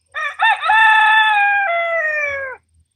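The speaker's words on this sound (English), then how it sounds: "But Sauron decided he'd come up and crow." A rooster named Sauron crows once up close, a loud drawn-out cock-a-doodle-doo with a stuttering start and a long falling tail, alone in an otherwise quiet outdoor setting.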